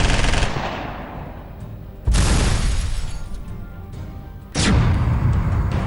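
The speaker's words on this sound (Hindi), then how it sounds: "बीएसएफ ने उन्हें निशाना बनाते हुए फायरिंग की।" BSF troops fire on infiltrating terrorists in the Hiranagar sector of Jammu and Kashmir. Three loud gunfire bursts each crack sharply, then roll off in long, decaying echoes, heard alone without voices.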